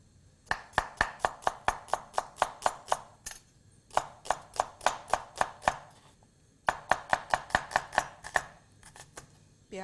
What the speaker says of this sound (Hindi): प्याज को हम स्लाइस कर लेते हैं।